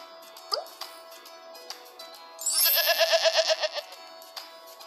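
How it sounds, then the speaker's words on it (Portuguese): A goat bleats in a children's educational animal game: a short burst of quick, wavering cries stands out loudly over a soft electronic game backdrop with a few light blips. "O bode."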